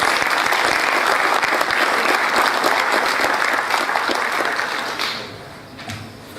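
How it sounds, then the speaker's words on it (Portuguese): Loud, dense audience applause for comendador João Salgado Santos at an official Brazilian heraldry and humanities ceremony, sustained for about five seconds before tapering off to scattered claps. "Nossos aplausos para o comendador João Salgado Santos."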